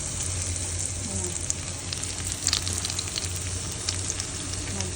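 Sweet potato leaves (talbos ng kamote) in tempura batter frying in hot oil, a close, steady sizzle with crackling bursts and light pops throughout, without voices.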